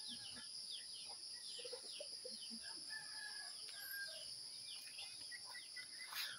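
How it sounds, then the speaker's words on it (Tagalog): Chickens and a rooster at a house in Bicol, heard faintly at a distance, with scattered clucks and a crow against a steady backdrop of insect trilling. "Ito po yung mga manok nila, kakatayin mamaya."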